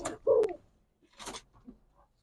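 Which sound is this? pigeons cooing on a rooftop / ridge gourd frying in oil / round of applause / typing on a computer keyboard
pigeons cooing on a rooftop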